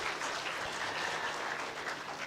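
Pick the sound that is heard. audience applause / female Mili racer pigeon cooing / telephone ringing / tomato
audience applause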